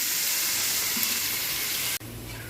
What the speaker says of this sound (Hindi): अब हम इसमें प्याज डाल देंगे।